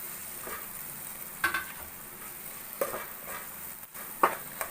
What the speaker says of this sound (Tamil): அதை சேர்த்து நல்லா கிளறி விட்டுக்குருவோம்